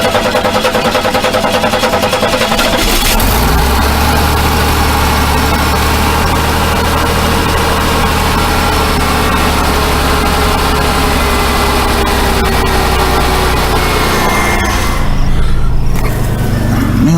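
A 1991 Oldsmobile Cutlass Ciera with newly replaced fuel injectors cranks for about three seconds, catches and settles into a loud, steady idle with a deep engine rumble and vibration. The revs lift briefly near the end.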